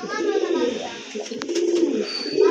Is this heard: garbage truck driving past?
no